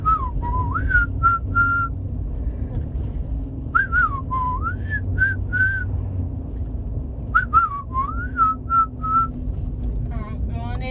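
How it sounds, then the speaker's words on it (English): A person whistles a bouncy, wavering tune in short repeated phrases, with pauses between, over a steady low rumble like a moving vehicle. "I'm whistling because I feel like it."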